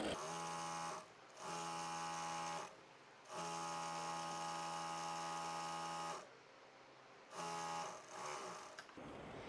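A sewing machine stitches fabric for a shirred top in steady humming bursts with short pauses between runs, close and fairly quiet, with no talking.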